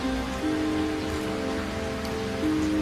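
Steady heavy rain pattering densely on a surface, a constant wash of sound with a low hum underneath, no voices.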